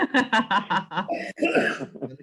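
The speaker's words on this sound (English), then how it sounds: "It's not the Rona cough." A person with a cold gives a rapid string of harsh, close coughs in a rhythmic burst, followed by a rougher, heavier cough and a wheezy breath.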